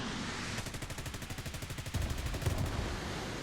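Rapid automatic cannon fire from a jet aircraft in the combat game War Thunder, a fast rattling burst of shots with rhythmic pulses, steady and fairly loud over engine noise for a few seconds.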